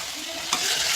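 Stuffed brinjals tipped into a hot pan with onion and masala for a brinjal and pigeon pea curry, a broad steady sizzle that swells sharply as they land and keeps hissing loudly to the end.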